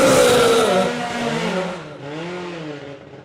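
A drag racing motorcycle launches hard off the line, its engine screaming loud and close, then pitching down and fading somewhat as it pulls away down the strip.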